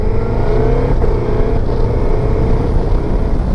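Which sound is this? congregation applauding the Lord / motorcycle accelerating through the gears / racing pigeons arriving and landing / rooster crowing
motorcycle accelerating through the gears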